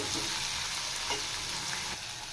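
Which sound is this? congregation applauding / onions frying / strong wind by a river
onions frying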